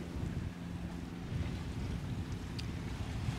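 Steady wind rushes over a sailboat beating upwind at about nine metres per second, a constant low roar with water wash and microphone buffeting and no talking.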